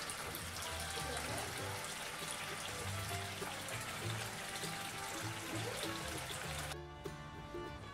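Hot water pours steadily from a tap into a container for washing a miniature, a continuous close rushing and splashing that holds for several seconds.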